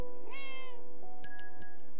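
A cat meows in the video game Relight, with one drawn-out meow followed by a run of short chiming tones.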